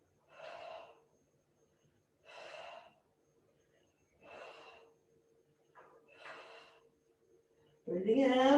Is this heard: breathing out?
yes